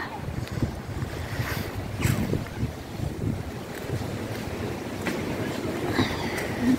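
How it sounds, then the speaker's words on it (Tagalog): Steady gusty seaside wind roaring across the microphone, a broad low rumble with occasional louder buffets, continuous throughout. "Mahangin pa."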